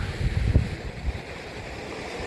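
A stream or channel running full and fast in a village after long-awaited water arrives, a steady rushing wash with low rumbling and some wind buffeting on the microphone, close and continuous, no voices.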